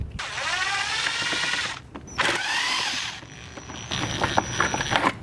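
Screws are backed out of the air intake bracket on an Audi's lock carrier: close, whining tool runs in two main spells, then lighter clicks and rattles toward the end.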